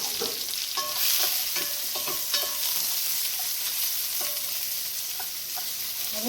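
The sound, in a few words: mushrooms frying in a pan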